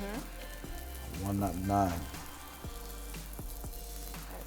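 Bean burgers sizzle and crackle in a hot frying pan with a steady hiss, while a person speaks briefly over it and utensils clink.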